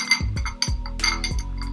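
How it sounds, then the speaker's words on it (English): Hand-blown glass globe candle holder, a hanging ball on a string, clinking with several short bright taps and rattles in quick succession, close up, alongside low handling rumble. "a hanging globe candle holder, hand blown glass"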